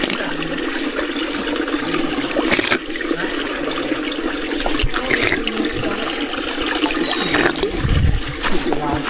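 Cold spring water on Mount Gerizim flows in a steady, close rushing stream, with a few brief splashes and some voices speaking over it now and then.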